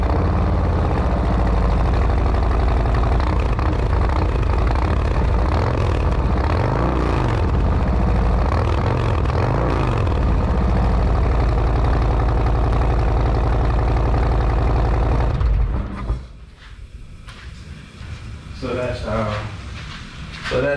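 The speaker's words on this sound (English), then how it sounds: "So that's how the tab exhaust sounds." A 2022 Harley-Davidson Street Glide ST with an aftermarket exhaust idles loudly and steadily up close with a deep, lumpy rumble, then cuts off near the end, leaving quieter background noise.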